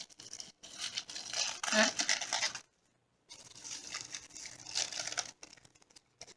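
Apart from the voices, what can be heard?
crinkling of packaging being unwrapped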